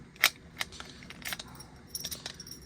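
Heavy-duty metal keys for a Slick Locks set on a Ram ProMaster van jangle softly in a few brief, faint jingles, with one sharper clink near the start and no talking.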